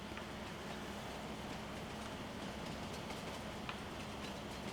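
A steady rumbling rush of a video game train in Farming Simulator 19 running along the tracks, continuous and fairly loud, with faint rattling clicks over the low roar.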